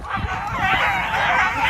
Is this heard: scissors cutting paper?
no